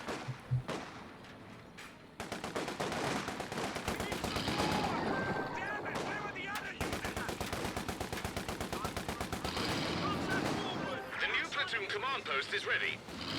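Machine-gun fire from a Universal Carrier in a WWII strategy video game during a 1v1 tournament match, heard as rapid rattling bursts mixed with heavier gunfire and thuds, loud and dense over the battle noise.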